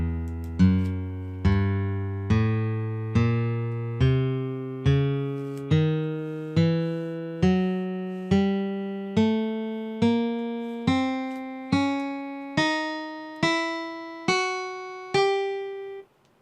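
A C half-whole tone scale climbs one clean, sustained pitched note at a time, about twenty evenly spaced steps rising steadily from low to high, each ringing out and fading before the next, with no talking.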